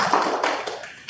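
Applause from a live audience at a startup pitch breakfast event, a brief burst of dense, steady clapping that fades slightly toward the end, with no voices over it.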